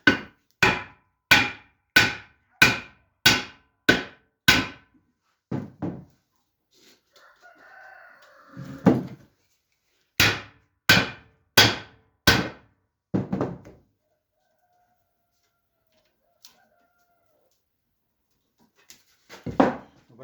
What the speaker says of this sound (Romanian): Aici trebuie să dau cu ciocanul pentru că este marginea.